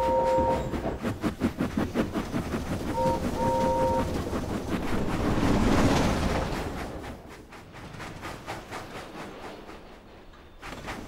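A steam engine on a railway line chuffs along with rapid, rhythmic puffs, its whistle sounding a couple of short blasts early on before the puffing fades, with music underneath.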